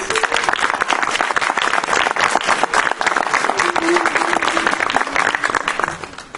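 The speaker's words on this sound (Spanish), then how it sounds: "para que pido un aplauso" Sustained audience applause at a live music concert, many hands clapping densely and steadily close by, filling the space before fading out at the end.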